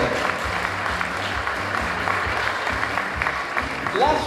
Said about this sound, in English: Let's give a warm round of applause for Mr. Hogue